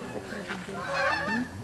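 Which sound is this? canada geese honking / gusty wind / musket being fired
canada geese honking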